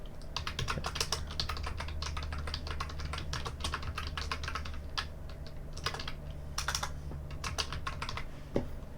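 Steady, close typing on a computer keyboard while entering router configuration commands, a dense run of quick key clicks with occasional heavier strokes over a low background hum, no talking.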